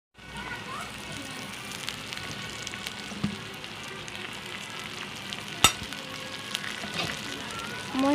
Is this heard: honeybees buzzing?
no